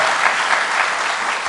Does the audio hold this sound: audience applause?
yes